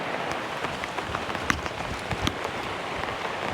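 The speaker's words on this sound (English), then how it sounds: "It is raining out there, but it is nice in here" Heavy rain pours outside a shed as a dense, steady hiss of drops drums on surfaces. Occasional sharper individual drips and taps stand out, continuous and fairly close.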